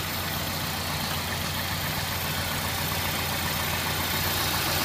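A 2001 Toyota Celica GT engine idles steadily at a wrecking yard engine test, a continuous close mechanical hum with a constant low drone and no talking.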